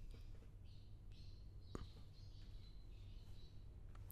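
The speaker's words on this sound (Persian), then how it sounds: "صدای گنجشکا داره میاد، خیلی جالب واسم" Sparrows chirping outside a room, faint high chirps repeating in short bursts over a quiet indoor background, with a single sharp knock partway through.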